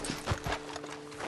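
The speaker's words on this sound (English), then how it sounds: "let's dismount here. Best leave the horses back a bit." Horses' hooves clip-clopping as riders dismount in the Red Dead Redemption 2 video game, several soft, uneven hoof thuds close by at low volume.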